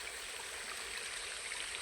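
A river stream on the way to a well flows steadily, a continuous close broadband rush and trickle of water with no talk.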